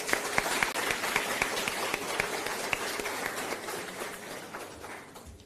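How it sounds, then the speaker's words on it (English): Audience applause at a book launch, steady clapping from many hands with distinct individual claps standing out, sustained for several seconds before fading at the end. "Please join me in giving a huge round of applause."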